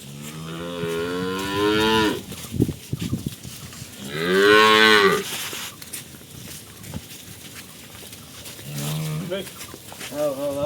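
A young heifer cow moos loudly and nearby several times, long drawn-out bellows with shorter calls later, amid footsteps, shuffling and someone talking on a rural farm.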